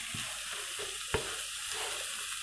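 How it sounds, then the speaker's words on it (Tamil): Adai dosa batter with grated coconut is stirred in a vessel for a couple of quick turns. There are soft wet scrapes and one sharper knock against the bowl, all at a low, close level. "எல்லாமே சும்மா 2 கிண்டு தான், அதுக்கு மேலே கிண்ட வேண்டாம்."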